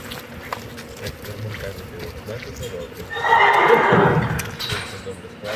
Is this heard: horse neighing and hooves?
yes